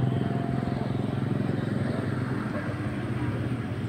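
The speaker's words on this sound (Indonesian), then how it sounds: "Anginnya banter banget." Strong wind at a fishing spot buffets loudly and steadily, a dense low roar that holds throughout with no break.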